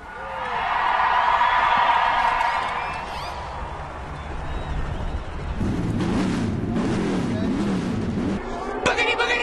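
NASCAR stock car engines fire up and roar at Las Vegas Motor Speedway, a loud sustained rumble of many engines that builds into revving and track noise, with a crowd and an announcer's voice over the top.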